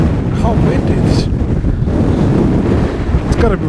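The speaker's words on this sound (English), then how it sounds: "It's extremely windy." Strong gusting wind batters the microphone outdoors beside a motorcycle, a loud continuous roaring buffet that covers the whole stretch, with faint traces of a voice underneath.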